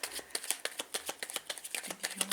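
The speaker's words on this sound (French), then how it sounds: "Je bats un peu les cartes" Playing cards shuffled by hand, a quick run of crisp riffling flicks and soft slaps, close and quiet in a still room.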